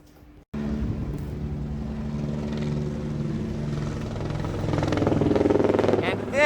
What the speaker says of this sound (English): This is the helicopter that is interrupting the shoot.